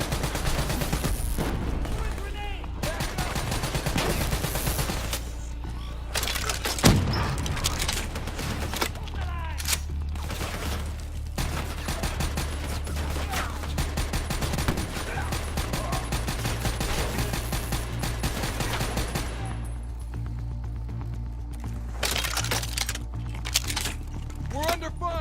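Gunfire in the Call of Duty: Black Ops III video game, with continuous crackling shots and bursts under game voices and a low droning background, steady throughout.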